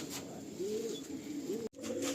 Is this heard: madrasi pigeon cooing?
yes